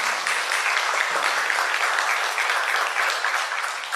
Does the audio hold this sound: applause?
yes